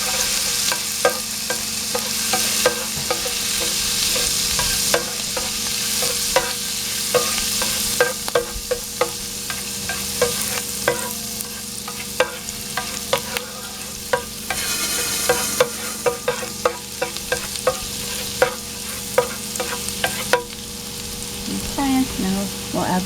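Black pepper chicken fries in a hot pan under constant loud sizzling, punctuated by frequent scraping and tapping strokes of a utensil stirring it around.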